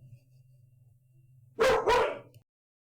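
A dog named Zena gives two loud, close barks in quick succession after a low rumbling background.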